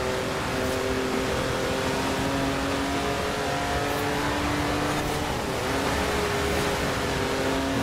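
A 2018 BMW i8 Roadster drifting in Forza Horizon 4, its engine droning loudly and continuously with sustained revving and tire noise throughout.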